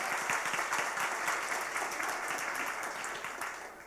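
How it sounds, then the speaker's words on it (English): Steady applause from a conference audience at a women's leadership event, a dense continuous wash of many hands clapping that holds evenly for several seconds and fades slightly at the end, with no voices over it. "So everybody, round of applause."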